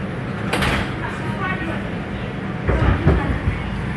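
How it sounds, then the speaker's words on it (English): New York City 5 subway train doors sliding shut, a quick whoosh and thud early on followed later by a heavier closing clunk, heard nearby over steady rumbling train ambience. "Stand clear of the closing doors"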